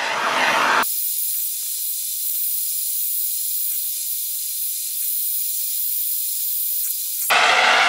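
A torch roars with a loud steady hiss while heating an oil-coated metal mold for homemade silver solder, close up and sustained, cutting off abruptly near the end.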